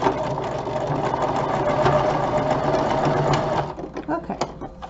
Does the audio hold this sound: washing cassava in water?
no